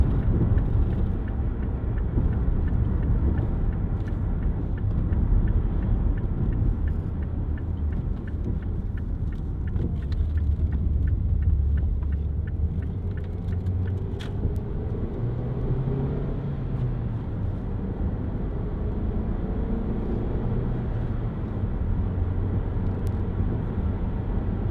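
Steady low engine drone and road rumble inside a moving Mazda 5 1.8 TS2 five-door, a constant interior hum with slight swells in pitch and no talk.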